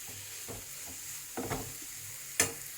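Cabbage and onion sauté quietly in oil in a pan for cabbage rice, giving a soft, steady sizzle broken by a few brief scraping stirs, the last one sharper and louder.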